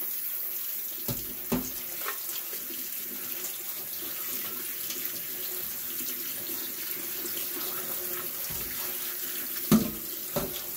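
Plums get rinsed under a running kitchen tap, a steady close stream of water splashing into the sink with a few soft clunks from the fruit and basin.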